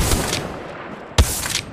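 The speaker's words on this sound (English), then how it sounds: "The enemies are shooting at me" Gunfire in the mobile battle royale Apex Legends Mobile: a few sharp shots early, then a loud close burst of several rapid rounds with no talking.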